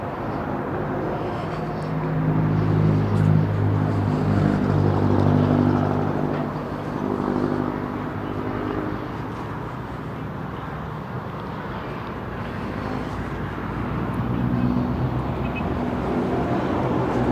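Steady traffic rumble of taxi cabs slowing down along a city street beside the Iloilo Esplanade, a continuous low engine drone that swells and eases as vehicles pass, with no talk over it.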